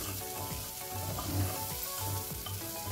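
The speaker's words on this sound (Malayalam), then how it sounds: "നമുക്കിത് ഈ റൈസ് ഒന്ന് നന്നായി ഒന്ന് വഴറ്റിയെടുക്കണം." Rice sautéing in oil with salt in a pressure cooker for pulao gives a steady close sizzle, with regular scraping stirs running underneath throughout.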